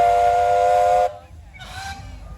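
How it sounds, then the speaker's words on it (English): A traction engine's steam whistle gives one loud, steady toot of about a second, then stops and leaves a shorter, fainter hissing burst of steam at an outdoor country show in East Sussex. "So when the engine drivers are ready, give me a little whistle."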